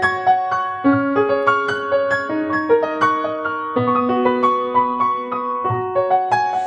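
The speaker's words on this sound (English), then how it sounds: "So it's pretty bright up here in the treble." Bright, biting treble notes on an Essex EGP155 grand piano are played as a clear arpeggiated melody, each strike crisp and decaying, close-miked and heard alone.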